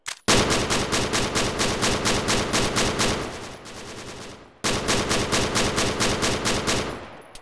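Loud machine gun fire in Arma 3 rattles out in two long rapid bursts, the first trailing off into a brief lull before the second begins, with no talking.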